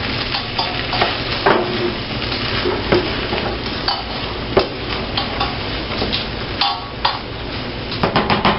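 Hash browns for a ham potato casserole fry in a pan with a steady, close sizzle, broken by repeated scraping and stirring knocks from a pancake turner against the pan.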